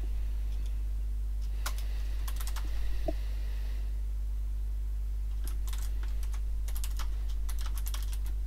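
Keys clatter on a computer keyboard in irregular bursts, a short run early on and a denser stretch of typing toward the end, close and fairly quiet over a steady low electrical hum.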